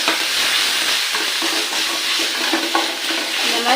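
Ginger garlic paste frying in a pan while being stirred, a loud, continuous sizzling hiss with scraping and bubbling texture throughout.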